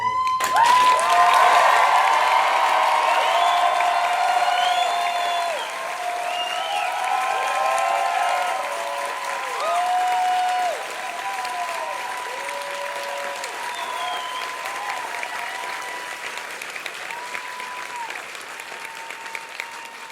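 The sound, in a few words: theatre audience applause at closing show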